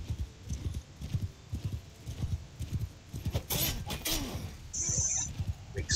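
Horse hooves clip-clop and thud in a steady galloping rhythm during a cavalry battle in Mount & Blade 2, with a brief whinny and sharp clashing noises mixed in.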